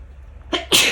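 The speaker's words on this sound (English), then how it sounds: "I'm about to sneeze." A single close, sharp human sneeze, a short intake followed by a loud explosive burst, heard alone in a quiet room with no talking.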